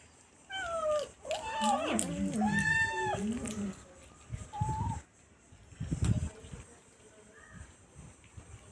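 Street cats meowing while being fed, with several drawn-out, rising and falling cries close by, followed by a quieter stretch with softer sounds and a brief low rustle.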